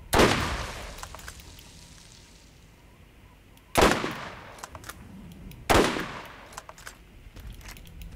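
Weapon fire in the Borderlands video game comes as three sharp, loud bursts spaced a couple of seconds apart, each decaying into quieter rattling and clicks, with no talk.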